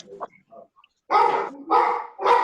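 A dog barks three times in a row, loud and close, in a classroom setting, with a faint whine and quieter yips before the barks.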